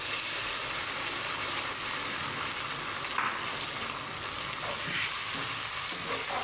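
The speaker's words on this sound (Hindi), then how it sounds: "अब हम इसको अच्छे से भूनेंगे 5 से 6 मिनट तक।" Potatoes and tomato paste fry in a pan with a steady, dense sizzle, broken now and then by soft stirring scrapes, close and continuous throughout.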